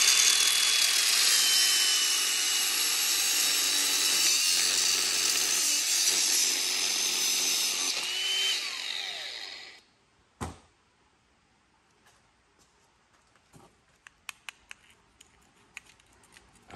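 A power saw cuts through brass scrap in one long, loud, steady whine that stops abruptly, followed by quiet with scattered light clinks and handling noises.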